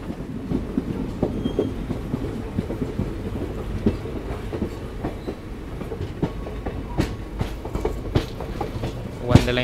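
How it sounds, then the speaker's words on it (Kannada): The Night Queen Express train from Bengaluru to Mandya crossing points while switching lines, with steady rhythmic clickety-clack of wheels over rail joints, occasional sharper knocks and a rising rumble, heard from inside the carriage with some voices. "ಲೈನ್ ಸ್ವಿಚ್ ಮಾಡ್ತಿದ್ದೀವಿ ನೋಡಿ."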